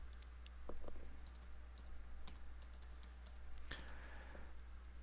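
Quiet typing on a computer keyboard to log in, a scatter of light, sparse key clicks over a steady low hum, with no talking.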